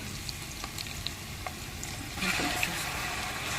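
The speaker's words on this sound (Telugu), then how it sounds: "వాటర్ కడిగి మిక్సీ గిన్నెని దీంట్లో పోసాను" Rinse water from a mixer jar is poured into a hot pan holding ground curry leaf, coriander and green chilli paste. A steady frying hiss swells louder and rougher partway through as the water hits.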